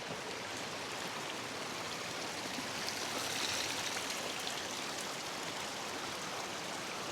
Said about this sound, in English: This water is coming from the rock.